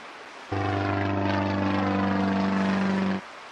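Airplane flying sound effect from the I Spy Treasure Hunt video game, a steady droning propeller hum that starts abruptly, holds loud and even for under three seconds, then cuts off.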